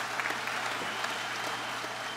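Audience applause at a political endorsement event, a brief steady patter of clapping hands from a crowd, moderately loud and even throughout.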